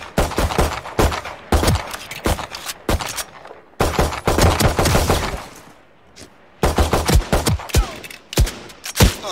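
Rifle gunfire at training bots in a first-person shooter, loud close rapid bursts and volleys separated by short pauses, alone without talking.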